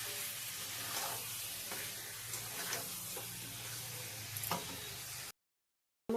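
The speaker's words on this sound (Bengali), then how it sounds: "মশলাগুলোকে দিয়ে ভালো করে চিকেনের সাথে মিশিয়ে নেব" Chicken fries with a fried spice paste while being stirred in a pan, a soft continuous sizzle with occasional scrapes and clatters of the spoon before the sound cuts off abruptly.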